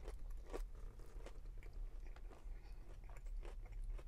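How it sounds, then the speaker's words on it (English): Someone eats a smoked gouda burger from A&W, with soft, close crunchy bites and chewing sounds spread over a few seconds, faint against a low background hum. "Let's go for another bite."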